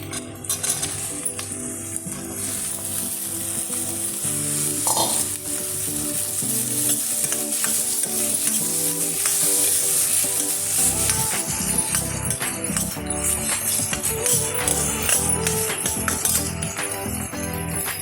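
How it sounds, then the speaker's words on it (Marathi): Vegetables such as green peas are stirred and sautéed in a pan for wheat pasta, with steady close sizzling, scraping spoon strokes and occasional metallic clinks. "एक एक वस्तू घातली की परतून घ्यायचं, शिजलं पाहिजे."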